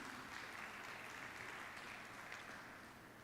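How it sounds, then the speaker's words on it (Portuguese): A church congregation claps together, a faint but continuous, evenly spread patter of many hands heard from a distance with no speech over it. "Dá um aplauso ao Senhor pelo Evangelho de Jesus Cristo."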